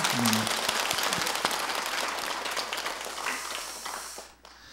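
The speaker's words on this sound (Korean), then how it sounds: "우리 어제 고생하신 분들 위해서 박수 한번 다 같이 보내드릴까요?" Broad audience applause at a Sunday dharma service at Jogyesa Buddhist temple, a steady wash of many hands clapping that fades out near the end.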